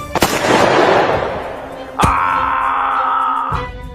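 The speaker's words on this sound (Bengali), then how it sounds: "অপরজনের হাত থেকে বন্দুকটা কেড়ে নিয়ে গুলি চালায় জমিদার বাবুর বুকের দিকে লক্ষ্য করে" Two sharp cartoon gunshot cracks ring out a couple of seconds apart, each trailing into a wailing, sustained tone that fades away.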